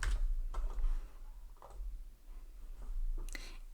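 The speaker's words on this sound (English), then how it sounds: "So I'm going to type here the website." Keyboard typing while entering a website address into a business software form: scattered, quiet clicks in short bursts with pauses between, close by and alone, over a faint steady hum.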